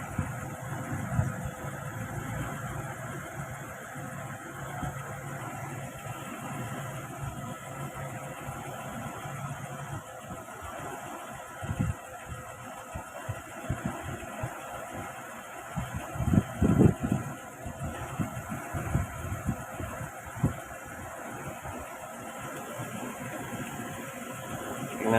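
A Toyota 1RZ engine idles steadily with a low, even rumble and faint mechanical vibration, heard alone at close range through the whole stretch.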